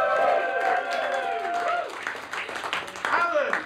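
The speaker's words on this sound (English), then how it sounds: "Everyone give a round of applause for Alan." Audience applause at a comedy roast battle, a steady wash of clapping mixed with cheering and loud crowd voices that carries through the whole stretch without pause.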